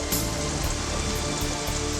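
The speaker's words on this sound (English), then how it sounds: "When the first heavy drops of rain began to fall, he looked up in surprise" Heavy raindrops falling, a dense, steady patter and hiss on a surface, loud and continuous throughout with no voices.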